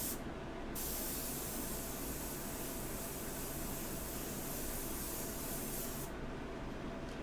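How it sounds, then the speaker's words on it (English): Airbrush spraying white India ink, a steady, close hiss of air and paint that runs almost unbroken for several seconds with no voices. "It's best to do it early going with the airbrush."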